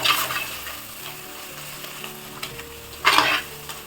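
Sardine fish curry is stirred in a pan, with a steady close sizzle and scraping stir strokes that swell into a louder burst near the end.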